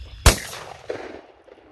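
A single loud shotgun blast at a clay shooting range, a sharp close crack that rings out and decays over about a second, followed by faint outdoor background noise.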